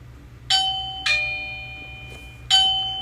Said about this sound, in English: This is your doorbell,